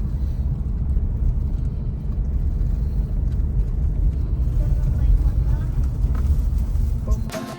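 A steady low engine rumble of a motor vehicle runs throughout, loud and continuous, with faint voices underneath.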